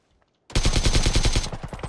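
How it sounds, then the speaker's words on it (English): Automatic rifle fire in PUBG erupts suddenly after a short silence, a loud, fast, rhythmic burst of shots that continues unbroken to the end. "You get a shot in the back."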